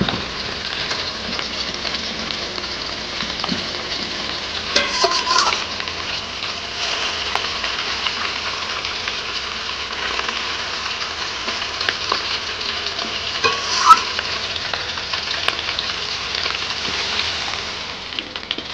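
Fish frying in a pan in a home kitchen, a steady hiss and crackle of hot oil sizzling throughout at moderate level, with small pops and no talking.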